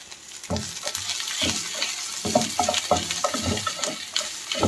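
Cumin, fenugreek and pepper fry in hot oil, giving a crackling sizzle with bursts of louder spattering and stirring scrapes close by, building in intensity.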